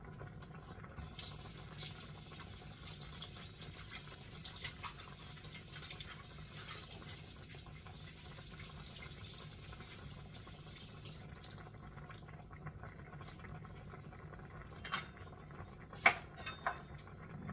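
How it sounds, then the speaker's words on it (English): Tap water runs steadily over fresh pak choi leaves as they are rinsed in a kitchen sink before cutting for Jamaican-style cooking. A soft, continuous patter goes on throughout, with a few brief clinks near the end and no talking. "make sure I wash them first before I cut them"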